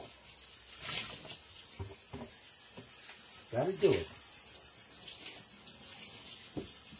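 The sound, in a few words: running tap water while washing dishes in a sink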